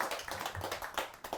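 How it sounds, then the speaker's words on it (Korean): Temple congregation applauds during a Buddhist dharma service celebrating Buddha's Birthday, with scattered individual claps popping in an uneven patter. "박수 한번 부탁드립니다"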